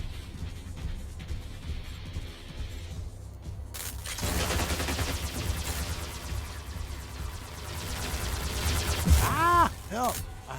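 Arc Torrent or EM Rifle discharging in a video game, a dense crackling electric burst that sustains for several seconds with a rising whine near the end, under a player's talk and game background noise.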